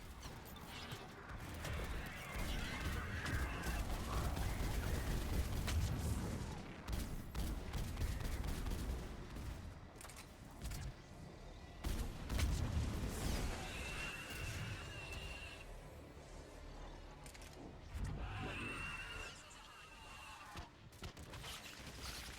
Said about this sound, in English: Missiles away. That's it for the missiles. Switching to the gun.